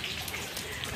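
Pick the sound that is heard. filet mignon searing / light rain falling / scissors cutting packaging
light rain falling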